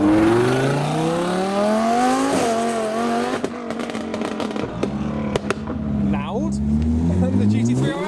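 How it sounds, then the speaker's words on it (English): A supercharged Lamborghini Huracan Spyder pulls away from a supercar show, engine revving hard through rising pulls with crackling pops and bangs, nearby and loud, crowd voices talking over it. "Here comes the supercharged Huracan"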